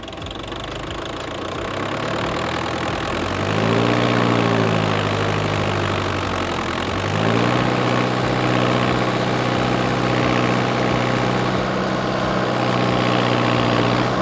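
A tractor engine labours steadily as it pulls against stretched packing wrap tape, its low throbbing note rising and shifting in pitch as power is increased, loud and continuous without any talking.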